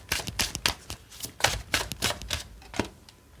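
Tarot cards are shuffled up close in a series of quick riffling bursts, fairly quiet, with short pauses between bursts and no talking.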